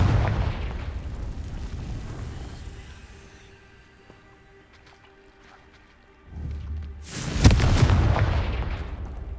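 A Confringo fire spell detonates in a video game: a loud booming blast fades into a quieter rumble, then a second sharp, heavy explosion bursts close and strong.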